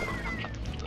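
Chickens clucking in the Slime Rancher video game, a short burst of close, loud game-bird calls with no talk over it.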